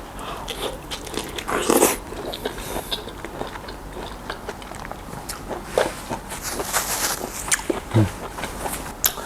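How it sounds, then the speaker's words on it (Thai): Crunchy bites and chewing on mackerel chili paste with steamed vegetables, close and intimate, irregular bursts of crisp munching over a quiet background. "กินน้ำพริกปลาทูกับผักหนึ่งด้วย"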